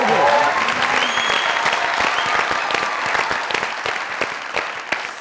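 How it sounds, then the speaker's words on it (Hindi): A studio audience at a comedy talk show applauds a guest as he takes his seat, sustained loud clapping with sharp individual claps standing out, faint voices mixed in at the start. "जोरदार तालियां सर को।"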